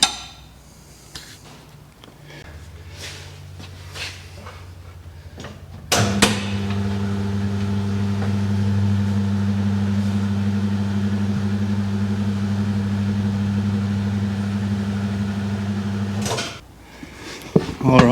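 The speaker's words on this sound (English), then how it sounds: "we get our tyre changer lever, which goes in here, and then if we all get it right, it'll peel the tyre off" A DS 806A tyre changer runs with a steady motor hum and grinding drone for about ten seconds while the lever peels the tyre off the rim, preceded by clanks and tool handling sounds.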